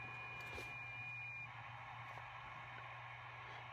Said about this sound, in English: That's the sound of digital modes on 30 meters.